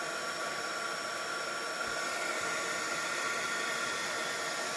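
A heat embossing tool blows hot air onto the back of a Christmas card with silver embossed snowflakes, a steady close hiss like a small hair dryer running without pause and without voices.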